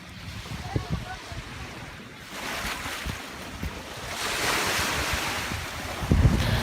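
Ocean waves wash onto a beach with rough wind buffeting the microphone, surf rising and building toward the end amid scattered low thumps.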